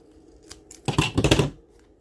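Scissors snip off the excess end of wide tape while building a DIY fairground snack bar base, a short burst of several quick, close, crisp cuts lasting about half a second.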